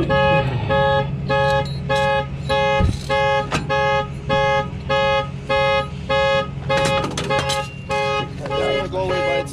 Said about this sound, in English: It's just gonna beep the horn.